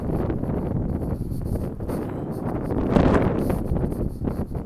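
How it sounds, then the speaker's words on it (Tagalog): Strong wind buffets the microphone in a steady roar, swelling in gusts, with no voices. "Mas lakas ng hangin eh"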